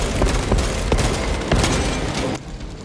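Sniper and rifle fire in the Space Marine 2 video game, a steady rapid volley of sharp loud shots with booming impacts that drops away abruptly near the end.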